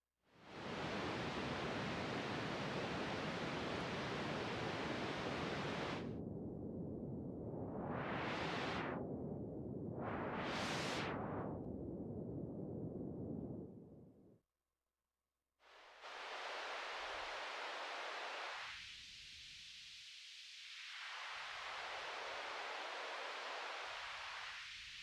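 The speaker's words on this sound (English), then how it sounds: "Let's switch on the pink noise." Pink noise test signal played through an active two, three and four way audio crossover, a loud steady hiss that gets filtered into sweeping bands, cuts out briefly, then returns with its high and low ranges shifting.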